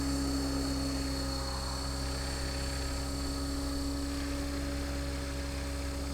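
Tron 5.5 500-size RC helicopter spooling up and hovering, a steady droning whine with strong tonal hum from rotor and motor, constant and fairly close throughout.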